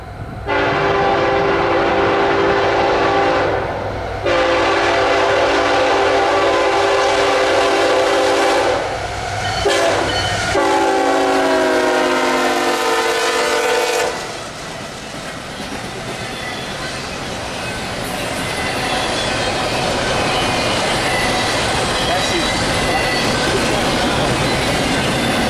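A CSX freight train I-017 speeds past in North East, Pennsylvania, with long loud horn blasts at the start, then a close, sustained rumble and rattle of wagons rolling by.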